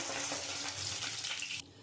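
Puti fish frying in oil, a loud continuous crackling sizzle heard close that cuts off abruptly near the end, leaving quieter background.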